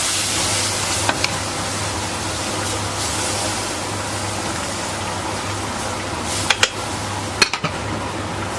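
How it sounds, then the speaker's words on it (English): A spoon stirs roux into a pot of crawfish etouffee brought back to a boil over the fire, with a continuous bubbling sizzle and a few sharp clinks of the spoon against the pot. "Stir all that in there."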